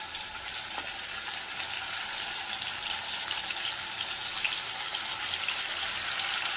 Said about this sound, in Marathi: आता हे 2-3 पीस डायरेक्टली असे शॅलो फ्राय करून घेणार आहे मी